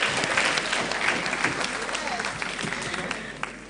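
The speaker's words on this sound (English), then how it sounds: "Let's give our presenters a round of applause again, everyone." Crowd at an education conference opening ceremony applauding the presenters, a steady moderate patter of many hands clapping in a large room, even in level and continuing throughout the short stretch.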